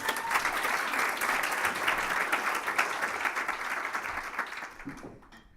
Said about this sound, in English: So please give Margot a round of applause.